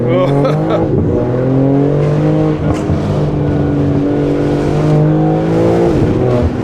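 A BMW G80 M3's valved rear exhaust revs and burbles loudly and continuously up close, the engine note rising and falling with deep rumbling pops.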